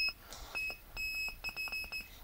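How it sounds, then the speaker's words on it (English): Beeping from a QRP Pixie shortwave transmitter mixed with its small internal circuit beeper, keyed by shorting the contacts in place of a Morse key: irregular short and longer high electronic tones, a few seconds of Morse-like on-off keying over faint hiss. "that's a mix of the beeping from the little internal beeper in the circuit and what's being transmitted on the shortwave"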